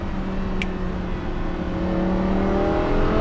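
A Lamborghini Huracan V10 engine drones at a steady, rising pitch while driven hard, a continuous loud revving tone heard from close by without any talk.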